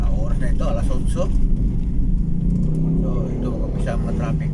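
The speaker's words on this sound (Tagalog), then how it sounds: "ito mag-umpisa ang traffic." Busy city street traffic in Iloilo City, Philippines, including modern jeepneys, bikers and other vehicles: a continuous low engine rumble and road noise, steady and close, with someone talking over it.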